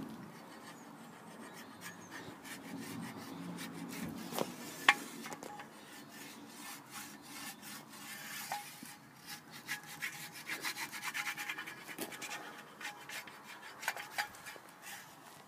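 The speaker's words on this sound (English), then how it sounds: "so I'll grind on this side." A skateboard grinds along a waxed rail with a long, rough scraping rub, broken by scattered clacks and knocks. The whole run is fairly faint and sounds some distance away.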